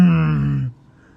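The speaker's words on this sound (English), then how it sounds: "The silver car just drove by" A silver car drives past outside, its loud engine drone strong and steady before dropping away abruptly near the end, leaving only faint background.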